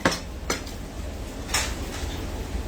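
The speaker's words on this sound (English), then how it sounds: "I'm just going to grab a bowl out the sink" A bowl is pulled from a kitchen sink among other dishes, making a few sharp clinks and clatters of crockery at close range over a low background hum, with no talking.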